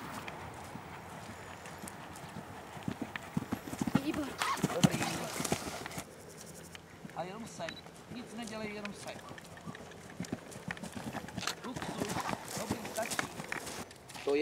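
A horse canters during military-style riding training in Humpolec, its hooves clip-clopping in a quick, uneven rhythm close by while a person talks over it almost throughout.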